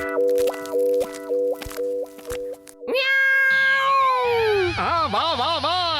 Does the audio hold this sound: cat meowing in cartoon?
yes